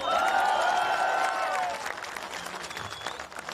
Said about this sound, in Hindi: इन लोगों के लिए ताली